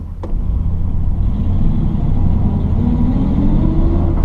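A 1951 Ford Deluxe Tudor two-door sedan drives along, its engine giving a steady low rumble with road noise inside the cabin, rising gently in pitch as it accelerates.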